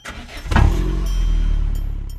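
An engine cranks briefly, then catches and settles into a steady, close idle rumble with a slight rise as it revs.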